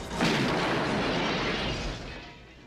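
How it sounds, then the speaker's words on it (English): A shotgun blast from the 1982 film Cat People, heard as one loud, broad boom that hits sharply and then rolls on as a long, dense rumble, slowly fading without any speech. "Oliver blasts him away with a shotgun"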